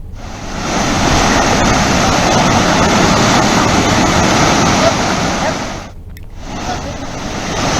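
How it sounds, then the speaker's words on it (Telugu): A flooded stream rushes hard in West Godavari, a loud continuous broadband roar of fast water that dips briefly near the end before surging back. "మాధవరం నుంచి కంసాలిపాలెం వైపు వాగు ఉధృతంగా ప్రవహిస్తోంది"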